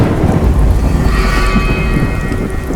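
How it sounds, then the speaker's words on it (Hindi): Heavy rain pours steadily with a deep thunderstorm rumble underneath, a loud continuous roar that stays even from start to end. "पर रास्ते में बारिश आ गई"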